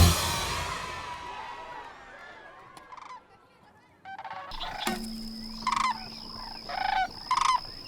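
Sandhill cranes calling outdoors: loud rolling, trumpeting bugles come in repeated short bursts in the latter half, following a fading noisy opening and a quiet gap.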